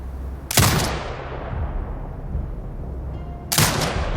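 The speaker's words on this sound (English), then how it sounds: "Exit binocular mode and command the turret to fire." A turret firing in the video game Sniper Ghost Warrior Contracts 2, two heavy booming shots about three seconds apart, each trailing into a long rumbling decay, with no voices.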